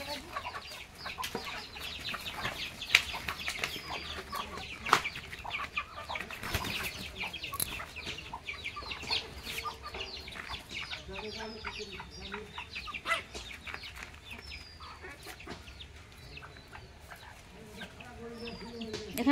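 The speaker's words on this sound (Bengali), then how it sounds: "এখানে মা এখন মুরগিগুলোকে খেতে দেবে।" A flock of chickens and roosters cluck and chatter continuously while being fed rice at a rural home, with wing flaps, faint background talk and soft clucks spread throughout.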